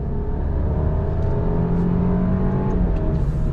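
A 2022 Alfa Romeo Giulia Veloce sport sedan accelerates under throttle, its engine droning loud and steady from inside the cabin with a faint rise in pitch, and no talk.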